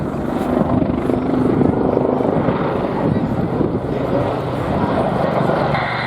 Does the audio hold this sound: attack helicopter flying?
yes